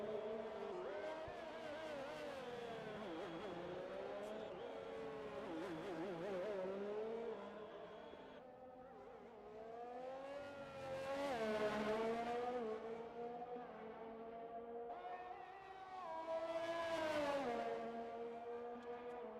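Formula-style race car engines at the Singapore circuit in a sim racing league, high-pitched revs climbing and dropping through gear shifts, with cars sweeping loudly past in waves and continuous engine drone throughout.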